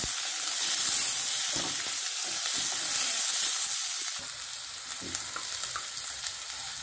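Finely chopped onion fries in a pan until translucent for mint pulao, a continuous bright sizzle with intermittent stirring scrapes that drops slightly in loudness partway through, no speech.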